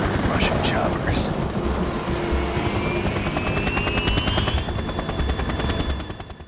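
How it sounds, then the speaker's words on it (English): Russian military helicopters in the Metal Gear Solid 2 video game on PC, a steady rotor drone mixed with bursts of rapid gunfire and a rising whine, loud and continuous throughout. "Russian choppers."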